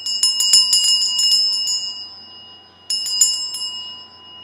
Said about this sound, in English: We're gonna ring my bell.